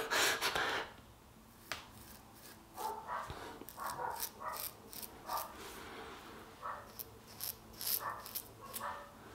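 A dog gives a series of short, sharp barks mixed with huffing breaths and snorts, fairly close and irregularly spaced.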